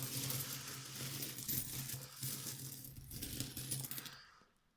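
A kilogram-scale pile of foreign coins bought by weight poured out nearby, a continuous metallic jingling cascade that fades at the end, no talking.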